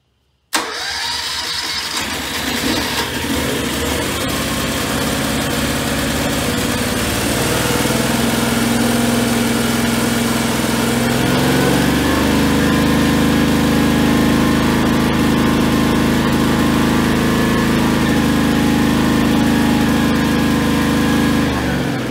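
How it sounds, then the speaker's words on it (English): A Westinghouse 28000-watt generator running on propane cranks and catches, then runs with a loud, steady engine drone that deepens and settles into an even idle, close up with no talking. "Go ahead and start it again."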